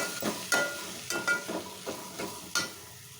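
Two large tomatoes cook down in a pan, giving a soft frying sizzle broken by several regular stirring scrapes about every half second, close and moderately quiet, with no voices.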